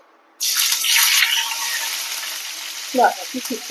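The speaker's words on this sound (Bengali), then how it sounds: "আমি এর উপরে আমি পেঁয়াজটা দেবো পেঁয়াজ দেবো" Onion dropped into hot oil with cumin and chilli bursts into a loud, close hiss that settles into a steady sizzle, followed by a few scraping stirs near the end.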